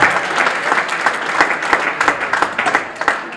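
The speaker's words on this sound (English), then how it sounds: "Yes, please, clap" An audience at an immigrant settlement house's 125th anniversary event claps for Mayor Walsh, a dense, even burst of applause with crisp individual claps, heard alone.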